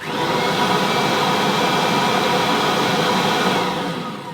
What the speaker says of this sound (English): I think the Avalier sounds a bit louder.